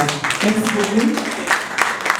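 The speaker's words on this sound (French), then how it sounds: "je voudrais qu'on applaudisse pour cette Afrique-là" Audience at a business forum launch event applauds briefly and moderately, the clapping heard under a speaker's voice.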